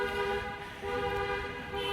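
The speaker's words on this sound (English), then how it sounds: "Wow, a ton of honking." Car horns honk on a New York City street, a continuous overlapping blare of steady horn tones that holds throughout over traffic noise.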